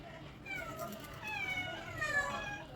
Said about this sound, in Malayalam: പൂച്ച വന്ന് നിൽക്കുന്നുണ്ട് നാല് ചുറ്റും.